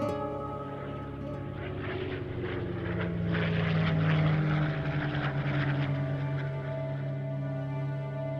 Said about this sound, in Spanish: Oían los ruidos de los aviones